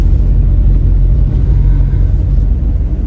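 An old car's engine misfires on one spark plug fouled by water, producing a loud, steady, close-up low rumble that runs throughout with no talking.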